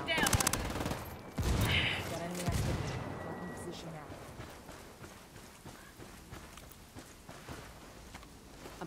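Heavy gunfire in Ghost Recon Wildlands opens with sharp close bursts and fades into a dense, rain-like crackle of shots that continues steadily under the action.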